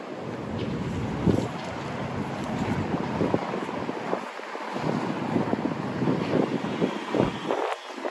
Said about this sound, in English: I think we may cut inside to get out of the wind.